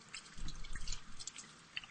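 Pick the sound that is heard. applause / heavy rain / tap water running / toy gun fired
tap water running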